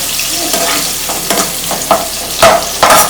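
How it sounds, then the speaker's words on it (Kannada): Two small onions frying in a pan, a continuous sizzle broken by several sharp scraping stirs of a spoon, close and fairly loud. "ನಾನಿಲ್ಲಿ ಚಿಕ್ಕ ಚಿಕ್ಕದು ಎರಡು ಈರುಳ್ಳಿ ತಗೊಂಡಿದ್ದೀನಿ ಇದಕ್ಕೆ ಫ್ರೈ ಮಾಡ್ಕೋಬೇಕು"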